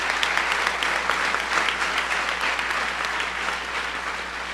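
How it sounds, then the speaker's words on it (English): Steady audience applause for teachers and staff at a school gathering, a continuous, moderately loud wash of clapping from many hands with no talk over it. "Please give them a huge round of applause for all of their hard work every single day."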